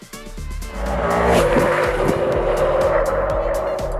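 A Ducati Multistrada V4 motorcycle accelerates along a paved road, its engine rising from a brief idle into a loud, continuous climbing roar with shifting pitch, close and unaccompanied by talk.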